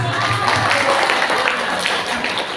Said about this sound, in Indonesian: Tepuk tangan semua.